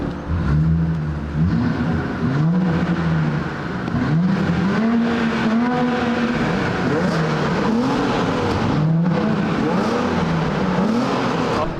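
A loud, raspy car engine with its muffler deleted revs and idles unevenly, its pitch rising and falling in repeated swells, close by and rumbling throughout.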